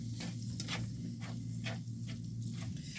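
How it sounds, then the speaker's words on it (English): Meat browns in a pan with a steady sizzle, while rhythmic stirring strokes scrape through it about every half second, close and moderately loud. "So I'm browning this meat"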